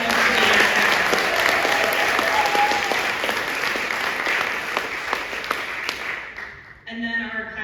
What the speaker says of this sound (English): let's give them a round of applause because we all know who they are